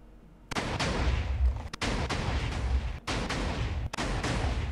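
Sand cannon in a video game firing rapidly, a dense run of loud booming blasts broken by three brief gaps, each burst rolling straight into the next without pause.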